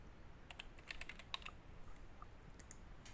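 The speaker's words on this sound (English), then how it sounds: "now we're going to type in a name" Light, quick keystrokes on a computer keyboard as a name is entered, soft and fairly distant over a quiet hiss, in a short irregular flurry.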